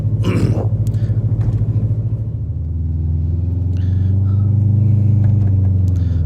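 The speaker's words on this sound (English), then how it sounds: "now we're going out on the highway in this Subaru 2005 Subaru Legacy GT" A 2005 Subaru Legacy GT with 250 factory horsepower pulls onto the highway, its engine a deep, steady rumble that rises and swells as the car gathers speed, heard from inside the cabin.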